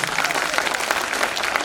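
An audience at a live recitation of the Hindi epic Rashmirathi gives the performers a burst of dense, continuous applause, many hands clapping close together at a steady, fairly loud level.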